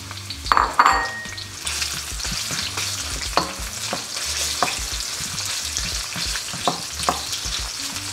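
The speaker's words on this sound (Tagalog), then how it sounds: "maggisa na tayo ng sibuyas." Onions sautéing in hot oil for pork menudo, a loud steady sizzle with frequent stirring scrapes and clacks close by, and no voices.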